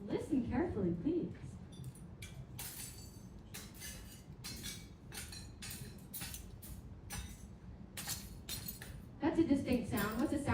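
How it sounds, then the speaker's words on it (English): Hardened volcanic glass from a homemade lava flow cracks and clinks in a rapid series of sharp, bright snaps and tinkles, with people talking at the start and end. "What's it sound like when I break the lava? Glass, of course"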